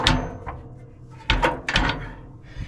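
The rusty firebox door of an antique Minneapolis Threshing Co. steam traction engine being swung shut: a creak followed by two close metallic clanks and a rattle, with no talk over it.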